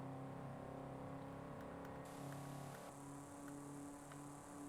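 A car engine in the racing video game Forza Horizon 5 shifts into fourth gear and keeps accelerating, a steady droning whine with a brief dip at the shift, heard alone.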